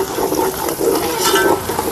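Ground masala sizzling and being stirred in a pan for country chicken biryani, a close, busy frying hiss with scraping strokes of a spoon, continuous with no voices.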